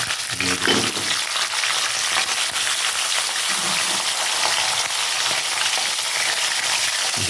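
Green chillies hit hot oil already seasoned with asafoetida and sizzle steadily and loudly for the whole stretch, with a dense crackling spatter and a few soft stirring knocks near the start.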